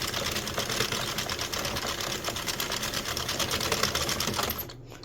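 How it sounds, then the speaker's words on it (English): An Addi 46 circular knitting machine is cranked through rows, giving a dense, continuous rapid clicking and clatter that stops abruptly at the end. "Hear that click? That's one row."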